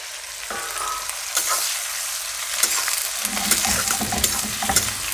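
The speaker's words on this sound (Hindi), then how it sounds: "तब यहाँ पे तड़के जलने के बाद से हम डालेंगे प्याज को।" Sliced onions hit hot tempering oil in an Indian pan and set off a bright, crackling sizzle that swells and grows denser as they fry, with stirring scrapes and occasional clinks over the hiss.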